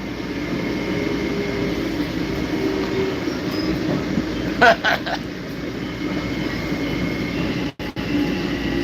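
Inside a moving train carriage, a steady low rumble of rolling wheels and rail noise fills the space throughout, with a brief squealing clatter midway and a short dropout near the end.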